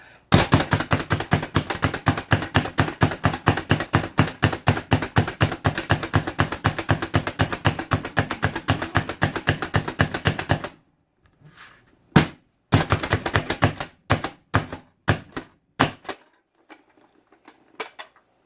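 Rapid, steady knife chopping of garlic on a cutting board, a long fast run of sharp taps, then a pause and a few slower scattered chops at close range.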